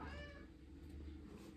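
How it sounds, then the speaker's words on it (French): A cat gives a single clear meow close by, with a falling tone, followed by quiet room tone. "même le chat est d'accord."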